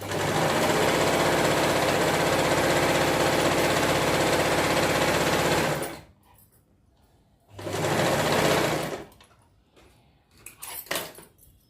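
A sewing machine runs steadily for about six seconds while stitching piping thread onto a blouse, stops, then gives a shorter burst of stitching followed by a few faint clicks and handling sounds.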